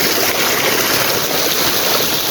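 Cold water runs steadily from a village spring, a loud continuous rushing splash with no break and no voices.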